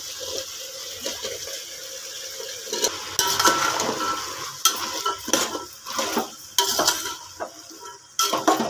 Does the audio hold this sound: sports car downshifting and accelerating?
no